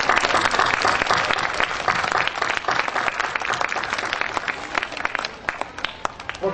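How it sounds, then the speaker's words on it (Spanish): A crowd at a Christmas children's celebration applauds a ladies' committee with dense, loud, sustained clapping that stays strong throughout, with sharp individual claps standing out near the end. "a quien les pido un aplauso"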